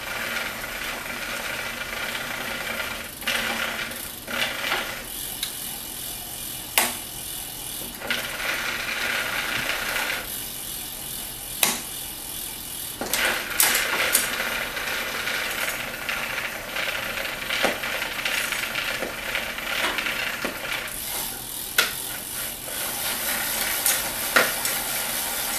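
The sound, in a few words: bike chain running through a chain cleaner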